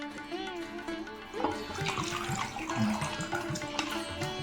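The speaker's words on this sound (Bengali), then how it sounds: "300 ml জল আমি এর মধ্যে অ্যাড করে দেব" Water is poured into a pot holding a sweet homemade kathi ice cream mix of lozenges and sugar, about 300 ml in all: a steady splashing gush begins partway through and continues, following faint tonal sounds at the start.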